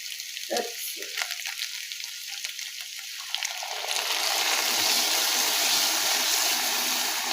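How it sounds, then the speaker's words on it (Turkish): Hot water is poured over kidney beans cooking with meat in a pot, setting off a loud, rushing sizzle that swells and holds steady after a quieter stretch of stirring and bubbling. "Ben şimdi sıcak suyumu getirip yemeğimin üstüne dökeceğim arkadaşlar."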